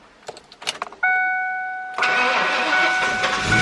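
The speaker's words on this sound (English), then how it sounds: "All right, so it started. And there's definitely something very wrong with the engine." Drift Cobra car engine cranking and catching after a dashboard chime, then running loud and rough with a persistent knock, close by; a few clicks and rattles come before the start.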